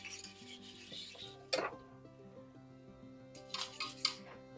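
Homemade egg nog is stirred in a pot on the stove, a soft scraping and rubbing of a utensil against the pot, fairly quiet, with a few sharper clinks scattered through.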